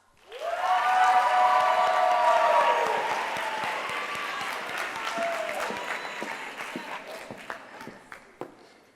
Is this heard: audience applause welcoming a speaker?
yes